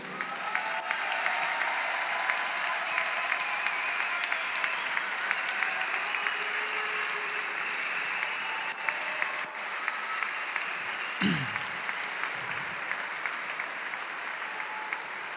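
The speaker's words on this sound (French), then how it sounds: "On va applaudir tout d'abord sur la plus petite marche du podium les finalistes de ce soir, Johan Sorosaval et Thibaut Vasque" Steady, sustained applause from an audience at a Cesta Punta final in Saint-Jean-de-Luz, a dense wash of clapping lasting throughout with only faint voices beneath.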